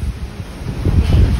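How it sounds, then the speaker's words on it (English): Strong wind from an atmospheric river storm at a campsite roars and buffets the microphone in a low, gusty rumble that swells louder toward the end. "I don't like wind."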